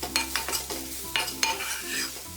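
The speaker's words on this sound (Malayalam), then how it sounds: "ഇതിലേക്ക് ഇനി പാകത്തിനുള്ള ഉപ്പ് ചേർത്തിട്ട് ഇതൊന്ന് വഴറ്റി കൊടുക്കാം" Onions and green chillies sauté with salt for paneer shahi korma while a spatula scrapes and stirs through the pan in quick, uneven strokes over a soft, close sizzle.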